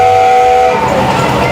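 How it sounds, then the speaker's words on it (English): A train on a British day out passes loud and close, a steady rumble of rail noise with a high whistle tone that holds at first and then drops away under broadband rolling sound. "Time for the choo-choo."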